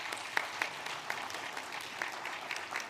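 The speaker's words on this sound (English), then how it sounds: "Please give applause to our speakers today." A conference audience at a G20 side event claps for the panel speakers, a short, fairly sparse round of applause with a few louder individual claps standing out, heard from within the room.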